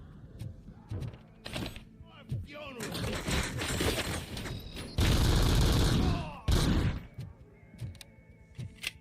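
HK1 assault rifle firing in RoboCop: Rogue City, with short bursts followed by long, loud sustained automatic fire and sharp impacts, while a player talks between the shots.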